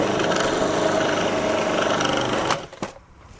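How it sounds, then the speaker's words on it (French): A Magimix Pâtissier food processor runs with its lid closed, blending icing sugar for macarons, giving a steady, loud motor whir that stops sharply near the end and leaves a few knocks before quiet. "Et on va tout simplement mixer directement en fermant l'appareil."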